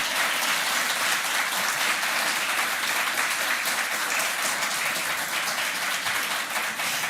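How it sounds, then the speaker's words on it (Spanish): A conference audience applauds steadily for an honoured guest, dense continuous clapping from a large crowd filling the room at an even level for several seconds. "Aplausos para ella."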